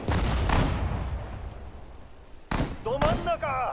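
Gunfire and artillery blasts hitting anti-aircraft guns in the Pacific War battles of the Sudden Strike 4 war strategy game, heard as loud booming shots with rumbling decay, a brief quiet gap, then more bursts under spoken voice lines.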